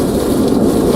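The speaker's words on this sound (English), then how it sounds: "A lot of rain." Heavy rain pours steadily and loudly during a flash-flood storm in Live Oak, Florida, a dense continuous roar with no pauses or voices.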